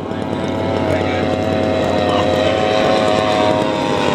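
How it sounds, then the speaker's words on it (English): RC scale model of a 1930s Farman aircraft turning final to land on grass, a steady propeller engine drone, loud and continuous, while a commentator talks over it. "turning final for his landing. Just an elegant aircraft from the 1930s."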